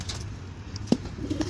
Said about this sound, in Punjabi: ਜੌਂਸਰੀ ਅਸਲ ਜੌਂਸਰੀ ਕਬੂਤਰ ਜਨਾਬ